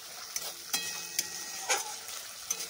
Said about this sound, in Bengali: গ্যাসের ফ্লেমটাকে লোতে রেখে 2-3 মিনিট ধরে মশলাটাকে ভালো করে কষিয়ে নেব।